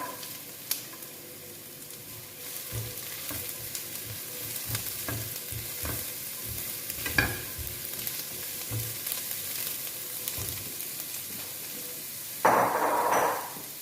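Chopped carrots go into a pan of frying onion and tomato, giving a low steady sizzle with faint scrapes and taps of stirring and a louder burst of frying near the end.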